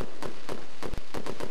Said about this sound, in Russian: А ночное небо, как Божья благодать, озарили залпы праздничного салюта.